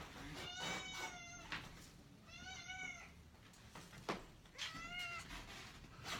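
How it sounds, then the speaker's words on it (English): A cat meows three times, each a drawn-out, wavering cry separated by short pauses, fairly close with some faint background noise. "She's gonna keep meowing."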